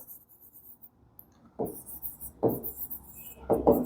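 Chalk or marker writing on a board during a maths lesson on circles gives three short scratchy strokes, faint and close, with quiet room tone between them.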